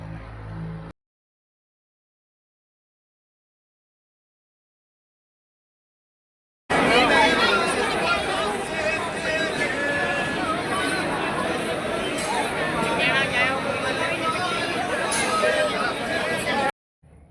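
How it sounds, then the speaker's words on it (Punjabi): A crowd of visitors at Thanda Burj, Fatehgarh Sahib makes a steady babble of overlapping voices and general hubbub. It stays at an even level and is cut off by silence at the start and end. "ਇੱਥੇ ਅਸੀਂ ਠੰਡੇ ਬੁਰਜ ਵਿੱਚ ਮੱਥਾ ਟੇਕਣ ਲਈ ਜਾ ਰਹੇ ਸੀ ਤੇ ਇੱਥੇ ਵੀ ਬਹੁਤ ਭੀੜ ਸੀ"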